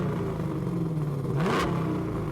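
A restomod car fitted with a Mercury racing engine rated to 9,000 RPM revs with a steady loud mechanical roar. The pitch dips and sweeps upward during a brief blip of throttle, with no talking over it.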